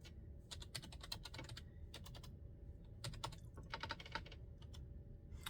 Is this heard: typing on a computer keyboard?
yes